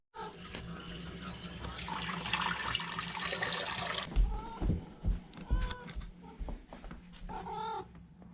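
Water running from a kitchen tap to fill a pet's bowl, a steady hissing stream for about four seconds, then a cat meows repeatedly nearby amid small clinks.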